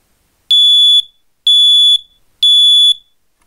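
A smoke alarm being tested sounds three loud, shrill beeps in an even rhythm, each about half a second long with silence between.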